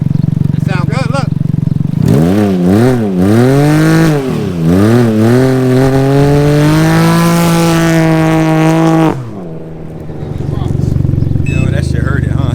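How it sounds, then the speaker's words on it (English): A car with a new aftermarket exhaust revs hard and loud, climbing and falling through several throttle blips before a long sustained high-rev pull that cuts off abruptly, with voices talking nearby. "He got a new exhaust, got some new sound, sounding good."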